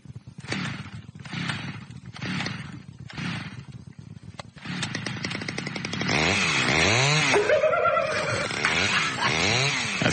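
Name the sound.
chainsaw trimming trees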